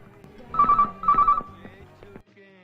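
A telephone rings in two short bursts of trilling bell tones in a film scene, loud and close, with muffled voices and background sound around it.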